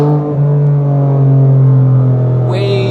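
A 2021 Toyota Supra with a manual gearbox crawls through narrow streets in first gear, its exhaust a loud, steady low drone that swells slightly and holds close and constant.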